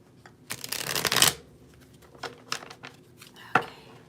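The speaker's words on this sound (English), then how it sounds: "Let me do a really good shuffle." A deck of tarot cards is shuffled by hand in bursts of riffling and flicking, a long dense run followed by several short, sharp card snaps, close and fairly quiet.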